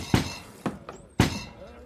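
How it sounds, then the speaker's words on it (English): Three sharp, close knocks hit a door at uneven intervals, each a dull thud with a brief ring, and nothing else sounds between them. "That's the knock."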